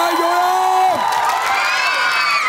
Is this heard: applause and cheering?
yes